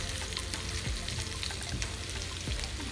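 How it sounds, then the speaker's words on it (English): Chopped onions, a generous amount, fry in a pan as a sausage and cheese melt is made, producing a continuous close hiss and crackle with scattered small pops. "So add my cut up onions in there."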